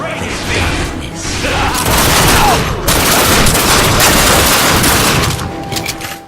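Sustained heavy gunfire in The Darkness II, a loud, dense barrage of shots and bursts that runs almost continuously, with brief lulls between volleys.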